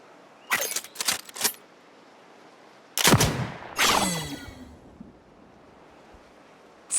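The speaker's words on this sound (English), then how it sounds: "A swift gunshot would put it out of its misery" In an Oregon Trail video game, a gunshot cracks sharply, followed by a ringing, metallic burst of game effects, after a few quicker clicks; no one speaks.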